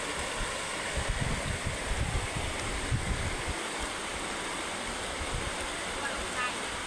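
Rushing, steady water flow with broadband noise and low rumbling surges, fairly loud and continuous throughout, no clear voices over it.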